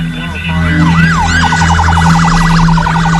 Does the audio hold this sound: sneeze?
no